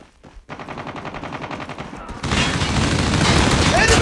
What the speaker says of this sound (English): This minigun is like one of the best things in the game.